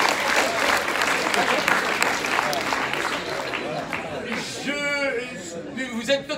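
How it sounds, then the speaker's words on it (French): Audience applauding during a French lecture by a lawyer, a dense steady burst of clapping that fades out, with a voice starting to speak over the tail end. "Vous applaudissez aux pires blagues"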